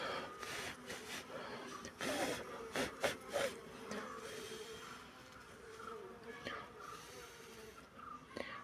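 Honeybees at an opened hive hum in a faint, continuous buzz while a keeper handles the frames, with soft rustling and knocks and quiet talk over it.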